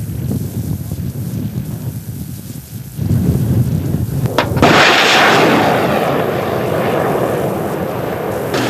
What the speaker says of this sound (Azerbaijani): Artilleriya və aviasiya zərbələri, müxtəlif silahların real atışı qarşıya qoyulmuş məqsədə nail olunaraq bütün hədəflər vuruldu